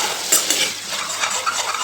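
Meat and masala frying and bubbling in oil while being stirred in a pan, giving a steady close sizzle with scraping utensil strokes and no talk.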